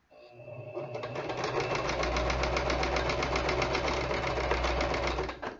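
A sewing machine stitches fabric for a reversible Christmas tree skirt, running steadily in a fast even rattle for about five seconds, close and loud, with a low motor hum underneath.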